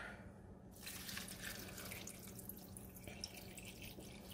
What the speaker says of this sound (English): And then I'll add some more water.